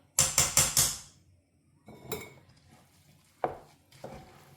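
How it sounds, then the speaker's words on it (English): A spoon stirs African breadfruit (ukwa) in a metal pot, with four quick bright clanks in a row followed by a few scattered scrapes and knocks, close and clear with no talking. "Now mix. I'm gonna add the remaining okwa."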